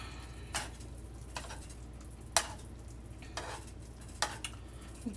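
Shrimp sizzling in a pan for shrimp and grits, a faint steady frying hiss broken by a handful of sharp spoon scrapes and clinks as the pieces are turned.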